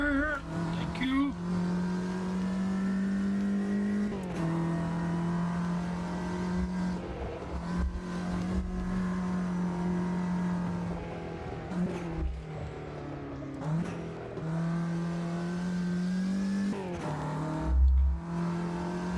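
A race car engine in a racing simulator game revs hard and continuously, rising and falling through repeated gear shifts over about nineteen seconds, loud and close, with a few dips in pitch.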